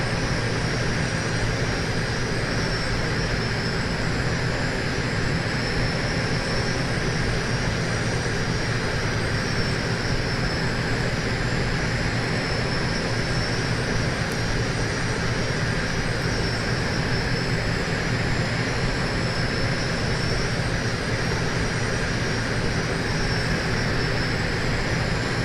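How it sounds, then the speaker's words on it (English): A propeller plane with an all-composite six-bladed prop in flight, heard as a loud, unbroken engine and propeller drone with a steady hum and whine, constant for the whole stretch, no voices. "I don't have no problem with the plane flying. It's all composite, 6-bladed prop."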